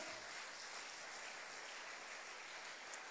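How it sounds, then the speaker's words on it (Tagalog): Congregation applauding during a Filipino church sermon, a steady wash of clapping held for about three seconds at moderate, fairly distant level with no voices on top. "Malakas na palakpak sa Lord."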